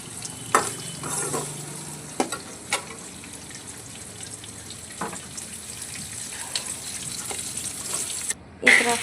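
Spices and dry coconut fry in a pan with a steady soft sizzle, broken by scattered clinks and scrapes of stirring, nearby and moderately quiet with no talk.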